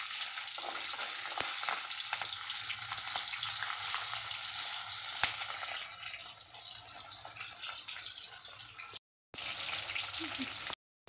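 Continuous loud sizzling and crackling of mustard seeds and onions frying in hot oil for brinjal gravy, with the hiss easing slightly before cutting out briefly near the end.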